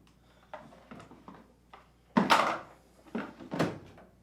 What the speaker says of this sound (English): Then, reinstall the detergent dispenser's drawer.